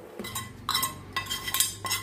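A spoon mixing tempering into cucumber chutney, with several close clinks and scrapes against the bowl in an uneven rhythm.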